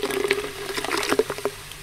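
Tonic water is poured for a gin and tonic jelly, a short, close liquid splash with soft fizzing and patter, heard alone.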